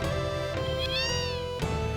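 Cats meow in the game Final Fantasy VII, with a few clear, drawn-out mews, one rising and falling in pitch, over a soft steady musical background, with no talking.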